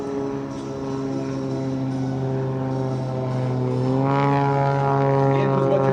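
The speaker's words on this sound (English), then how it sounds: "Watch as he brings the aircraft down." Skip Stewart's propeller aerobatic plane drones steadily at an air show as it descends low toward the runway, its engine tone rising and growing louder near the end, continuous and fairly close.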